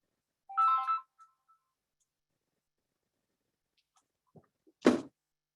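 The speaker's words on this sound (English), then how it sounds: "I forgot to put my phone on vibrate." A mobile phone ringtone chirps briefly once, fairly faint in a quiet room, followed by silence and then a couple of sharp clicks and a thump.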